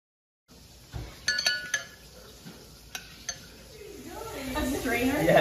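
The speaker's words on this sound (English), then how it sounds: "Now we're adding the pasta to the boiling water to make our chicken pasta." Dry pasta goes into a pot of boiling water for teriyaki chicken pasta: a few sharp clinks and taps come first, then bubbling swells steadily louder near the end.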